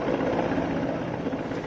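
An Indian Air Force rescue helicopter flies over a flood zone, its rotor making a loud, continuous, rumbling whir close overhead with no voices.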